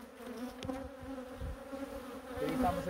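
Honeybees buzz around an open hive during honey collection, a dense, continuous drone close by, with individual insects swelling and fading as they pass.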